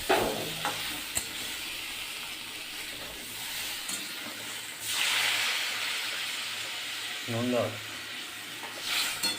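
Cumin powder and chili powder being stirred in a frying pan for a fish and vegetable curry, with intermittent hissing sizzle and scraping bursts swelling and fading over quiet gaps.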